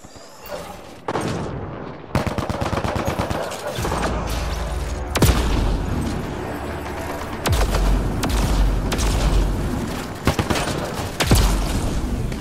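Mounted turrets in the video game Mass Effect Andromeda open fire on Merryweather's men: loud, dense gunfire runs almost without pause, broken by several sharp, heavy booming blasts.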